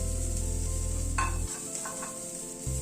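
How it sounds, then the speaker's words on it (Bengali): Steady sizzling of cauliflower frying in a pan, with a scrape of stirring partway through and a brief low thump near the end. "ধীরে ধীরে ফুলকপিটা ভেজে নিলাম"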